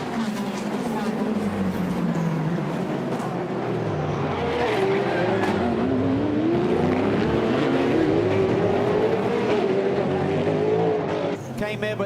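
IMSA GT race cars, including a Cadillac, at full speed on track: a loud, continuous engine roar whose pitch climbs and dips through gear changes and corners.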